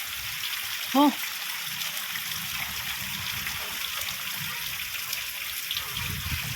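Heavy rain pours down over a village, a steady broadband roar of falling water that stays constant throughout, with a short tonal chirp early on.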